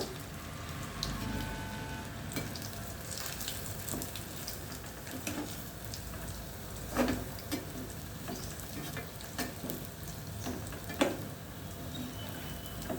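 Pakodis are deep-fried a second time in hot oil, a soft, steady bubbling sizzle with scattered crackles and pops over thirteen seconds, fairly quiet and without speech.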